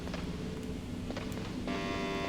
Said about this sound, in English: So you hear there's like the weight limit alarm went off when I went in there?